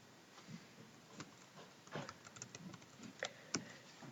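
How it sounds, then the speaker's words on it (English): Quiet, close keystrokes tap on a computer keyboard as a spreadsheet formula is entered, with irregular single clicks and short bursts and a sharper keypress near the end. "I'll go through and type that in."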